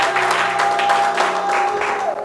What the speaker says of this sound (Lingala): Acclamez pour la gloire de notre Dieu